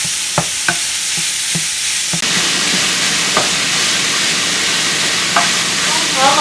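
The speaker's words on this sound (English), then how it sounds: "Once all the pink is gone, we'll be finished cooking the Italian sausage." Italian sausage crumbles frying in a pan, a steady sizzle and hiss with a few sharp scrapes and taps of a utensil stirring the meat, no talking.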